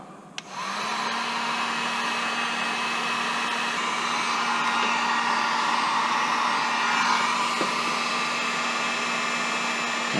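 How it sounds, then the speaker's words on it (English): A heat gun blows steadily on solder connector fittings while repairing a turn-signal ground on a 2000-2005 Chevy Impala, a loud continuous whoosh with a low motor hum that starts abruptly and runs unbroken to the end. "And they solder them together with a heat gun."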